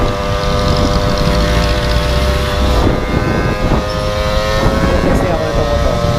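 A 4-stroke 50cc motorcycle engine runs steadily close by, a constant buzzing drone with a stable pitch that never lets up, while a voice talks intermittently over it.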